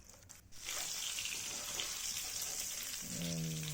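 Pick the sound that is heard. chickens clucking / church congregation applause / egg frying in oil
egg frying in oil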